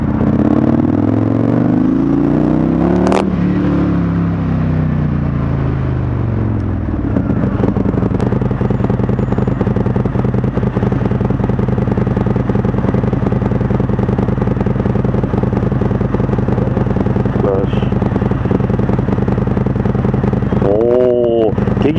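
An Indian FTR1200 motorcycle rides in sport mode, its engine droning steadily and loudly with revs rising and falling, and a voice talks over it at points.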